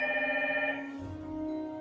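A telephone bell rings in steady bursts, a bright repeating ring that stops partway through, leaving a quieter low rumble afterward. No voices are heard.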